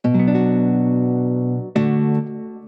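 A MIDI guitar chord strummed in Cubase 11 rings out loud and sustained, then a second strum enters near the end and decays more quickly; no voices.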